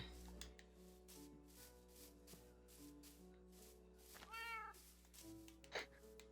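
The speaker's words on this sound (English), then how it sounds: "My cat won't meow at me, but it'll meow at you." A pet cat meows several times in a row, the cries rising and falling clearly over a steady low background hum and soft game sounds, with a brief low voice murmuring at one point.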